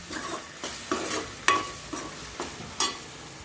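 Garam masala frying for a fish curry, a spatula scraping and stirring the pan in regular strokes, with a soft sizzle underneath, close and fairly loud, no voices.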